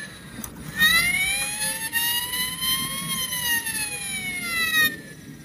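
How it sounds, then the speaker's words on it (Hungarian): A fire engine siren wails in one long, loud, rising and falling sweep, heard at fairly close range outdoors in winter with no talking. "Hívjunk egy tűzoltóautót, aminek a fecskendőjéből kijövő víz talán leolvasztja a jeget."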